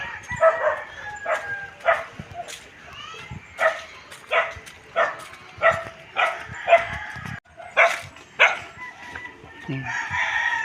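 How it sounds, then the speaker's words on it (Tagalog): Dogs barking in repeated sharp bursts, fairly close, with roosters crowing and fowl clucking mixed in at an outdoor rural spot. "Nananakin ang mga aso."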